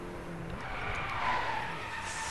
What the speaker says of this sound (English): I don't know how I'm drifting without even touching my handbrake.